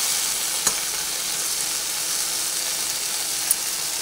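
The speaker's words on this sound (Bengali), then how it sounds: "নুন দিয়ে আলু আর ঢ্যাঁড়স দুটোই ভালোভাবে আমি ভেজে নিচ্ছি।" Okra and potatoes frying in oil with salt, giving a steady, broad sizzle throughout with two brief clicks of utensils against the pan.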